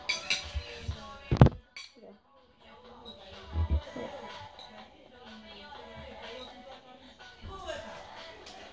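Forks and knives clink against plates during a family meal of radishes and ham, a few sharp scattered chinks among soft clatter while people talk over the table.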